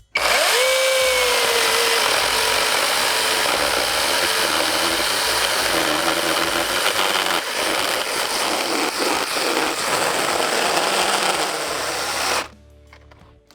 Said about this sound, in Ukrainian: якщо ця пилка має таку величезну шину, будемо її випробовувати